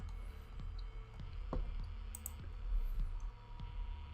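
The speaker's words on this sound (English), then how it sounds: "I apologize for the really loud mouse clicks." Sparse, sharp clicks of a computer mouse, close and irregular, over a low steady background hum.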